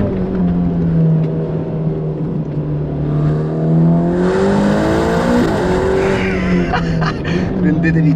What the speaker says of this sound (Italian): Rendetevi conto della brutalità dell'accelerazione.